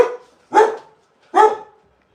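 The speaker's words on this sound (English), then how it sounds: "You don't have to bark." A dog barks twice, loud and close, with two sharp harmonic barks spaced under a second apart after a fading earlier yelp, with no talking over them.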